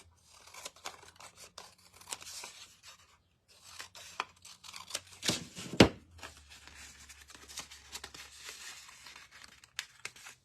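Scissors trim down a handmade craft hat with repeated close snips and paper crinkling and rustling, plus one sharp louder cut midway, and nobody talks.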